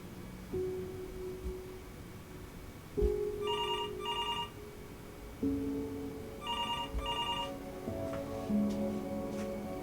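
Telephone ringing in the video game Before Your Eyes, two crisp double rings separated by a pause over a low droning music score with deep swelling notes.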